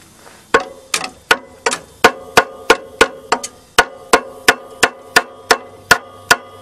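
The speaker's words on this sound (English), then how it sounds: "Let's get a hammer" Sharp metallic hammer strikes ring out close and loud in a steady rhythm, about a dozen and a half blows, each with a bright clanging decay.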